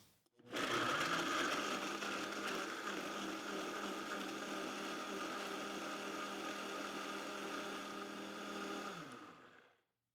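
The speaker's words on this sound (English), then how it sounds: "get that blender going, turn it on, and we want to liquefy these dates." A blender whirs loud and steady for about nine seconds, liquefying hot-water-soaked dates for a dairy-free pumpkin pie filling, then spins down.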